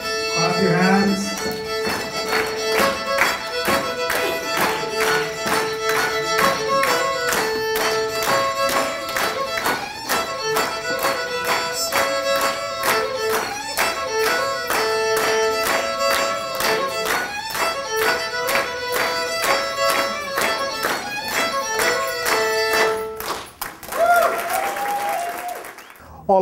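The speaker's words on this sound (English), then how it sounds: "Clap your hands." An audience at an Aboriginal community forum claps hands along to a steady rhythm with music, the beat continuing for most of the stretch before the clapping breaks off near the end.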